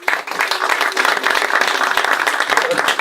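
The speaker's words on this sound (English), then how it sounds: "Powitajmy cały zespół WITC brawami." Audience applause welcoming a team at a triathlon introduction event, a steady dense wash of many hands clapping that runs the whole time, close and loud.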